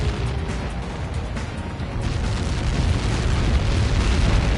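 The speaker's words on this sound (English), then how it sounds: "How many got caught in that explosion?" A heavy explosion impact in a PS4 video game, a dense, sustained rumbling roar that fills the whole stretch and builds slightly in loudness toward the end, with no voices over it.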